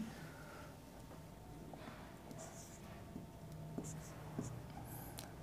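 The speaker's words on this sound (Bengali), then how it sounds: "প্রথমে কয়েকটা পৌনঃপুনিক দশমিক সংখ্যা আমি এখানে লিখছি" Pen on paper while writing recurring decimal numbers by hand, quiet scratchy strokes in short bursts against a faint background, with a soft voice murmuring now and then.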